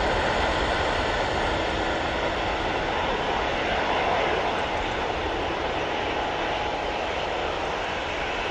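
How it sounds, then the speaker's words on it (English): An Aer Lingus A380 airliner arriving at Manchester Airport from JFK, a loud sustained broadband jet roar that holds steady throughout, heard from the ground with no clear talking. "we've got the Aer Lingus A380 coming in from JFK"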